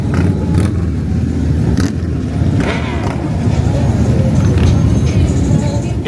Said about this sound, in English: It's alive with the sound of engines as bikes rumble down the strip.